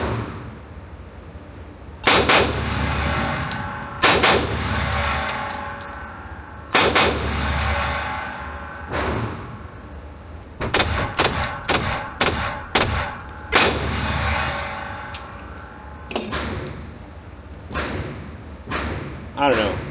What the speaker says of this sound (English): I'm gonna practice double taps.